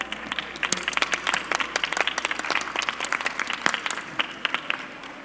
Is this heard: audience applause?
yes